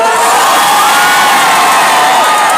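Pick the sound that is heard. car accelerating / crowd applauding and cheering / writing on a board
crowd applauding and cheering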